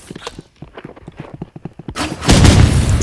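In the video game Rivals, a quick run of footsteps is followed by a loud, roaring blast as an RPG is fired. The explosion fills the end of the moment.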